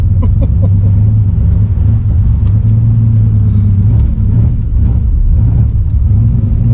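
The War Admiral street car's engine running with its rear exhaust cutouts open, a loud, deep, continuous rumbling drone heard from close by inside the car, with no speech.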